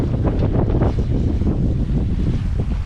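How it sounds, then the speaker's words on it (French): Strong wind buffets the microphone aboard a sailboat crossing between Horta and Ponta Delgada in the Azores, a loud, constant roar with low rumbling gusts and no voices. "Et tout d'un coup, il y a 11 nœuds de vent. Et puis ça monte à 22 nœuds."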